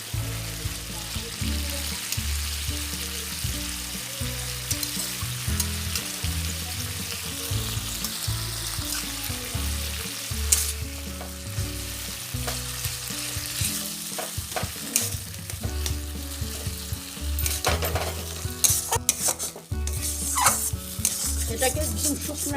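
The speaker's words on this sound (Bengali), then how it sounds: "এটাকে একদম শুকনা শুকনা করে ভেজে নিতে হবে।" Mashed green peas frying and being stirred in a pan for pea-stuffed kachori, a steady sizzle with repeated scraping strokes of the spatula, close and continuous.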